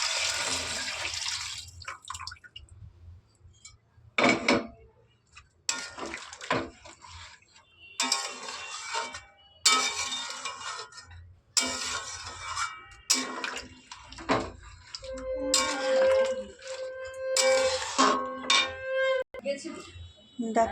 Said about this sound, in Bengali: এবার আমি মাংসটা যে সেদ্ধ করেছিলাম সেই জলটা, সেদ্ধ করার এই জলটা এবার আমি ঝোলের জন্য দিয়ে দেবো।